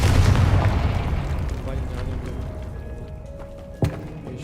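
Confringo fire spell cast in the video game Hogwarts Legacy, a loud rumbling explosive burst up front that slowly decays into a dull roar, with a sharp crack near the end.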